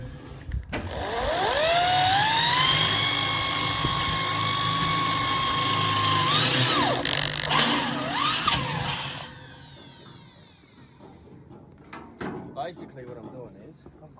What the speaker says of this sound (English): That drill bit's really blunt, but